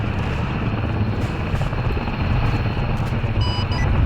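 Steady, loud helicopter rotor and engine drone of a Mi-24 in Arma 3, continuous throughout with a faint beeping near the end.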